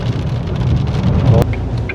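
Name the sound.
rain falling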